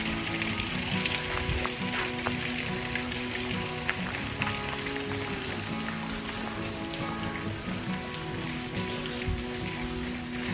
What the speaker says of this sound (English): Waterfall coming off the rock face here.